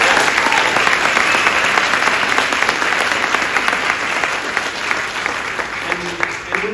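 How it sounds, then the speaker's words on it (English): Audience applause fills a convention panel room at San Diego Comic-Con, loud and steady throughout with dense clapping that stays near and even before tapering slightly at the end. "So let's give them a round of applause."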